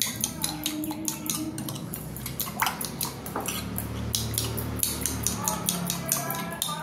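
A spoon clinks and scrapes against a bowl while a marinade of milk, ground black pepper and salt is stirred together, with soft rhythmic taps throughout.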